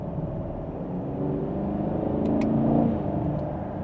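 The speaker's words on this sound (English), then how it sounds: "let's downshift a little bit here" A 2024 Chevrolet Camaro LT1 RS with a V8 and manual transmission rumbles as the driver downshifts, the engine note swelling steadily and peaking near the end; a steady, moderately loud cabin drone with no talk.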